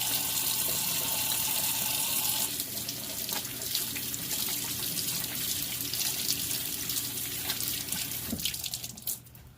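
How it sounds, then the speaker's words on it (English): A tap runs steadily into a sink during handwashing, with a continuous close splashing hiss that shifts as the hands move under the stream and tapers off near the end, with no talking. "I gotta wash my hands because I licked my fingers to flip my calendar page."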